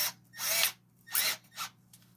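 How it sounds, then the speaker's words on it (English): A power drill spins a .303 British rifle case clamped in a hand-tool holder for trimming, whirring in three loud bursts that rise and fall, the last one shorter, with quiet gaps between them. "Put it in a drill."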